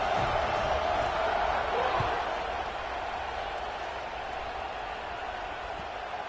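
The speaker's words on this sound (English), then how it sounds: "this crowd is buzzing after that last score" A stadium crowd at a college football game, UCLA versus Washington, keeps up a broad, steady murmur and buzz, loud at first and then easing slightly, with a faint thump partway through.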